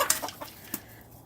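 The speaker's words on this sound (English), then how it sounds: "I'd come out here and feed my chickens with this wonderful bell pepper seeds" Chickens cluck softly close by while eating bell pepper seeds, a few short, busy clucks and one brief higher call, fairly quiet.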